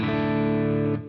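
An electric guitar runs straight into a Positive Grid Spark amp with no pedal, sounding one sustained, ringing chord that holds steadily for about a second before being cut off.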